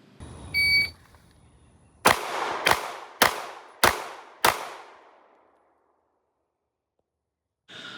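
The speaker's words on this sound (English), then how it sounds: "the last 7-yard round is from low ready, fire 5 rounds in 4 seconds" Five sharp handgun shots crack out at a quick, even pace from low ready in a timed FBI qualification drill at 7 yards. Each shot has a short ringing tail, and a brief electronic beep comes before the shots.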